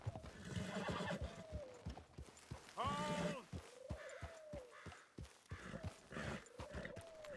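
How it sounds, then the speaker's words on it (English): In Red Dead Redemption 2, a horse clip-clops steadily along with rhythmic hoofbeats, interrupted by a loud whinny partway through and several shorter neighs and snorts, all fairly close. "the game takes over from you and the horse automatically pulls up alongside Micah"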